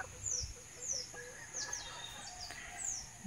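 Chickens cluck and call softly from a white hatch gamefowl flock, with short chirpy bird notes repeating over a quiet, low background.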